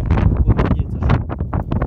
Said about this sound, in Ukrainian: він вітер сильно задає.